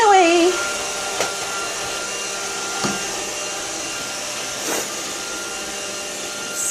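An iRobot Roomba robot vacuum runs steadily across a kitchen floor, giving a constant whirring drone with a few brief knocks and bumps, and a voice briefly heard at the start.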